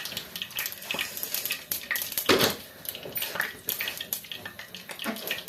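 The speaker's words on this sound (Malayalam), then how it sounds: "നന്നായിട്ട് കടുക് പൊട്ടുവാണേ." Mustard seeds and asafoetida splutter in hot oil, giving a dense, steady crackle of sharp pops and sizzling bursts that runs throughout, fairly close, with a few brief clattering accents.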